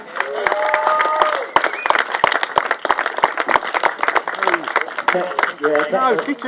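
Applause and some cheering from a crowd at an awards presentation for a cycling masters event, honouring a third-place finisher, mixed with voices and uneven bursts of clapping throughout.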